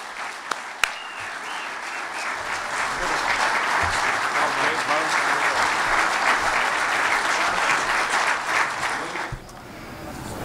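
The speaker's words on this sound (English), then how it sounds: "So let's give them a big round of applause." Crowd at a press conference introducing a new head coach gives a sustained round of applause that swells and holds for several seconds, then drops off abruptly near the end, with brief speech at the edges.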